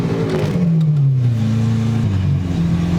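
A supercar engine revs from inside the cabin during a drive. The note climbs, drops, then rises again in smooth, droning swells, loud and close, with no talking over it.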